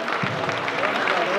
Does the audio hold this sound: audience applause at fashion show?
yes